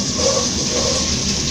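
Food sizzles in grapeseed oil in a pot, a steady close hiss and crackle of frying that holds evenly without pause.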